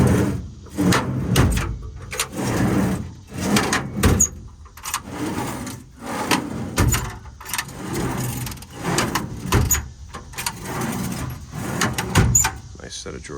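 IMT latching tool drawers on a 2020 Ram 5500 diesel service mechanics truck open and close repeatedly, giving sharp metallic clunks and slides at a steady pace, close by, with someone talking throughout.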